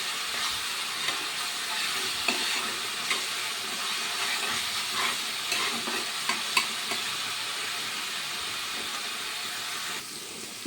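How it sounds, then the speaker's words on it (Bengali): Ginger, garlic and green chili paste frying in oil with onion, a steady close sizzle with occasional stirring clicks and scrapes throughout, no voices. "এবারে আদা রসুন কাঁচা লঙ্কা বাটাটা দিয়ে দিলাম এবার এটাও সুন্দর করে ভাজা করে নেব"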